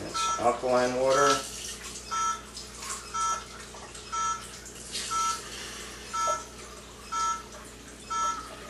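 A Chanson VS-70 water ionizer dispenses alkaline water, a burst of pouring and bubbling at the start followed by a series of regular short electronic beeps, with people talking quietly in the background.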